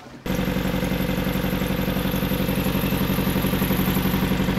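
A cold Chevy Tracker engine fires up in the snow after a brief crank, then settles into a loud, steady, slightly rough idle with a rhythmic pulsing, close to the microphone.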